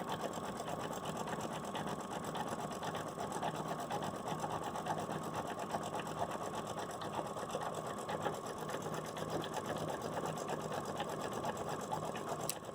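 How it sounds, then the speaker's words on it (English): An embroidery machine stitches underlay and then fill stitch in a steady, fast, even mechanical whir with rapid needle ticking. It runs unbroken at a moderate level throughout, with no talk. "Then the underlay, and then it will do all the fill stitch."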